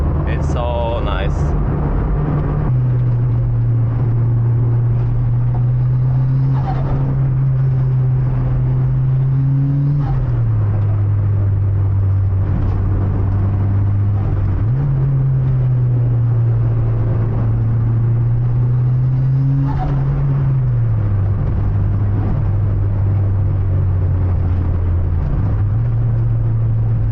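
A Mitsubishi Evolution V driven up a twisty mountain touge road, engine droning loud and close from inside the car, repeatedly climbing in pitch then dropping at shifts, with someone talking over the cabin rumble.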